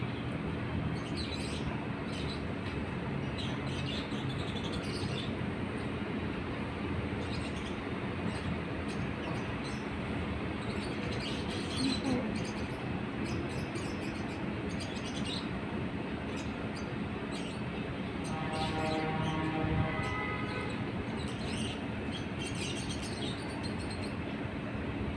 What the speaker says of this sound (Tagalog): parang daming ibon